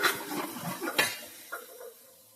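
A spatula scrapes and clinks against a pan while green peas are mixed into fried rice, several quick metallic stirring strokes that fade into a faint quiet sizzle.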